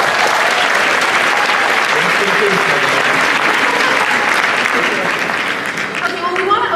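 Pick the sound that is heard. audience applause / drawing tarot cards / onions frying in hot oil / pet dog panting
audience applause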